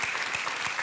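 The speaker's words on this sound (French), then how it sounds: "Applaudissements pour Pascal et Marie-Christine" Brief burst of studio audience applause on a French TV game show for a couple, a thick, continuous patter of many hands clapping at close range.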